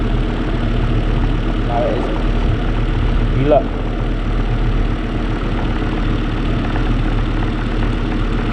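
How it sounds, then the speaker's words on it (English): A Volvo V70 engine idles steadily with its oil filler cap removed, giving a constant low rumble throughout, while a person speaks briefly over it. "Engine started"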